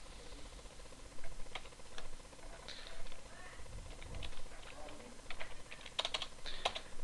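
PHP code typed on a computer keyboard, a steady run of quick, close key clicks with uneven rhythm and a few louder taps, continuing for several seconds with no talk over it.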